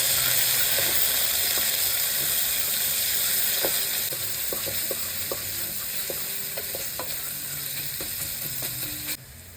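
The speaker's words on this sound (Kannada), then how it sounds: "ಈರುಳ್ಳಿ ಹಾಕಿ ಅದನ್ನು ಚೆನ್ನಾಗಿ ಫ್ರೈ ಮಾಡಬೇಕು." Onions fry in hot oil for tomato bath, a steady close sizzle with scattered light clicks and scrapes of a spoon stirring the pan, and no voices.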